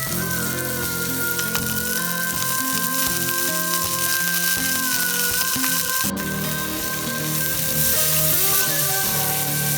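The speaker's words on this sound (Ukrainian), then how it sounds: "Кладемо котлету та смажимо по 5 хвилин із кожного боку." Steady, loud sizzling of a burger patty frying in oil on a hot grill, a continuous crackling hiss with faint clinks, and nobody talking.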